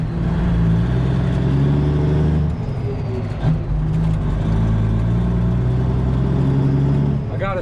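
An old-school truck with an empty trailer pulls away: a loud, close diesel engine drone rumbles steadily throughout, its pitch shifting slightly as it picks up speed, with some cab noise.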